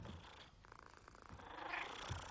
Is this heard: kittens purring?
yes